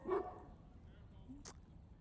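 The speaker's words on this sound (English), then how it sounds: "of course the dogs are going to act up while I'm talking" House dogs let out a short bark near the start and then a faint yip, with quiet room tone in between and no one talking.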